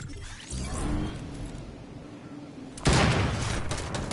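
Video game gunfire, a burst of loud shots cracking out near the end after a stretch of quieter background noise and scattered impacts.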